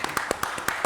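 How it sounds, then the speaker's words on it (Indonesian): A quick run of hand claps, several people applauding briefly in an even rhythm, close by. "Tepuk tangan dong."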